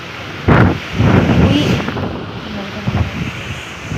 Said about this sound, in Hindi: देखिए धीरे धीरे हवा तेज़ हो रही है।